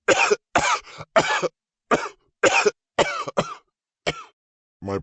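A series of harsh, separate coughs, roughly nine bursts in five seconds with short silent gaps between them, close and loud, ending in a rasping throat sound.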